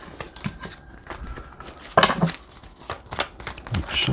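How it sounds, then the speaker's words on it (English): Tarot cards being shuffled by hand in two passes before the top card is drawn, giving soft riffling and sliding card bursts, with a sharper flurry midway, close and fairly quiet. "I'm gonna do 2 shuffles and then pull from the top."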